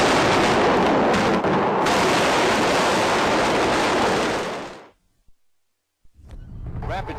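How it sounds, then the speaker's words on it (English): Dense, continuous roar of loud explosions and heavy artillery fire over Baghdad in the early morning, lasting several seconds, cutting off abruptly into silence before faint rumbling returns. "Rapid series of 40 explosions lit up Baghdad in the early morning hours."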